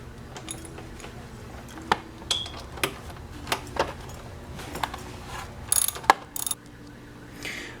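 A ratchet tightens a car battery hold-down bracket on a 2010 GMC Terrain / Chevy Equinox, giving faint scattered clicks and metallic ticks at an irregular pace, close and quiet with no talk.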